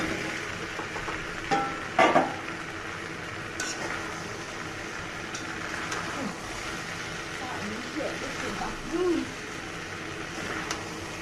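Small new potatoes hit hot fried spices in a home-style Bengali aloo dum, sizzling steadily at moderate volume with occasional stirring scrapes and clinks, while someone talks over it.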